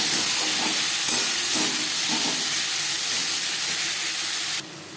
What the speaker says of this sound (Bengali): 10-15 সেকেন্ড জিরে ভেজে নেওয়ার পর দিয়ে দেবো পেঁয়াজ কুচি আর রসুন।